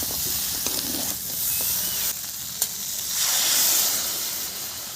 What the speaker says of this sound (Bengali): এবারে দিয়ে দিচ্ছি আমি কেটে রাখা ঝিঙে